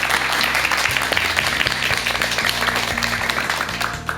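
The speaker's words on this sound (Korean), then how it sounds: "자, 그럼 우리 박사님께 감사의 의미로 큰 박수 한번 좀 부탁드리겠습니다." A studio audience gives a round of applause at the close of a lecture series on Buddhist mind therapy, a dense, steady clapping heard over background music.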